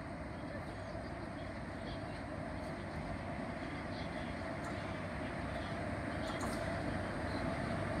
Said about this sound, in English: Uh-oh, the train is coming.